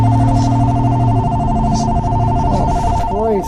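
A cheap $9 phone rings inside a GMC Sierra 2500HD pickup, a steady repeating electronic bell tone sounding loud and close over engine rumble, with someone talking over it.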